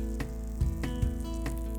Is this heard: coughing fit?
no